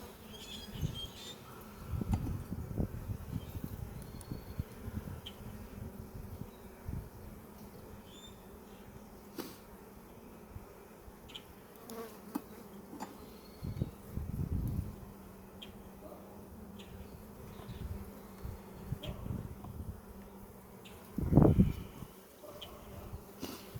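Honeybees at an open hive with small hive beetles present, a faint continuous buzzing close by with scattered handling bumps and one louder rustle near the end, no talk.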